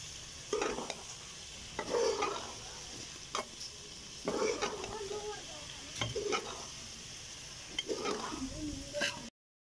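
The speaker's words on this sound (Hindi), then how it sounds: "अच्छी तरीके से हम लोग मिक्स करेंगे" Chicken Chinese rice mixture being stirred in a pan, with repeated scraping and tossing strokes every second or two over a soft sizzle, close by and with no talking.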